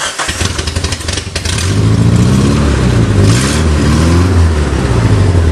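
A Suzuki Tracker engine runs roughly on three cylinders, one with low compression, starting with uneven chugging and then revving loud and close with a lumpy, wavering pitch, and no talking over it.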